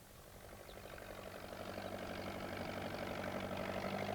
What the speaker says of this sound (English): Peter Fogg came along on his tractor